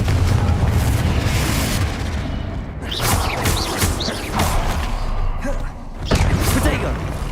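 Confringo spell blasts from the Hogwarts Legacy video game: a dense, loud rumble of booming explosions with sharper bursts near the start, middle and end, over a steady low roar.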